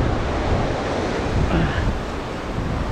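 Ocean surf crashes onto coastal rocks at a rock-fishing spot, churning white water in a constant loud roar with gusts of wind buffeting the microphone.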